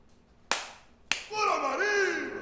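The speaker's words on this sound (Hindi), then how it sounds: "ताली बजाकर?" Two sharp, separate hand claps, about half a second apart, ring out in a quiet room, followed at once by a voice speaking.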